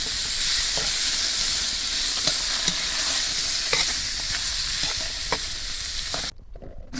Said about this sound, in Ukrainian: Першим в казан залітає сало. Гарненько його перемішуємо.